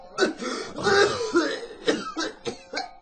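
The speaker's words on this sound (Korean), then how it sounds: "발작적인 기침이 다시 시작되자" A man's fit of coughing in a Korean radio drama reading, a burst of harsh, hacking coughs and throat-clearing repeated in uneven spasms over three seconds, close and fairly loud with no talk.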